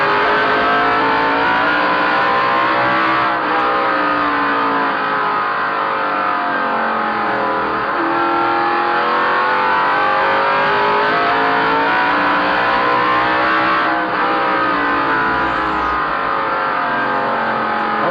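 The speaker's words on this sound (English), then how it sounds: "we'll once again go inside the Dale Jarrett car and take you for a few laps around North Wilkesboro" An onboard 1988 NASCAR Winston Cup stock car laps the 5/8-mile North Wilkesboro oval, its engine roaring loud and continuous throughout, with pitch rising and falling as it accelerates off the corners, with no talk.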